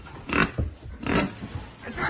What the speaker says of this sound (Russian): Смотрите, как тут все захрюкало.